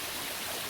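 The Oglebay Waterfall pours in a steady, dense wash of rushing water, broadband and unbroken, with no other sounds over it.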